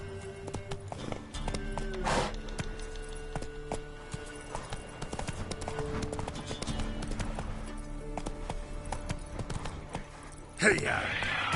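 Roach the horse gallops in The Witcher 3, a steady clip-clop of hooves running throughout under game music and voices, with a brief louder burst near the end.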